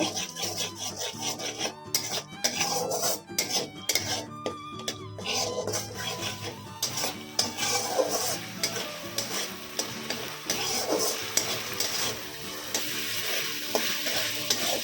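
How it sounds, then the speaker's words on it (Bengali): Spice paste with ginger-garlic paste for a prawn malai curry fries in a pan while being stirred, a continuous sizzle with rapid rasping scrapes of the spoon, close up and without speech. "এবার এর মধ্যে এক চামচা আর একটু আদা রসুন বাটা দিয়ে দিলাম দিয়ে ভালো করে কষিয়ে নেব"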